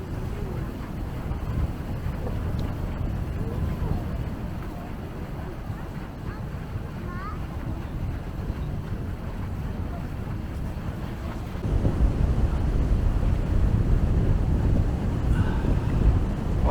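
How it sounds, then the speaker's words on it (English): Strong wind buffeting a boat travelling through a Norwegian channel, a continuous dense low roar with rushing air and some water noise that grows louder toward the end, with a person speaking faintly beneath it. "Well, the wind is absolutely phenomenal at the moment"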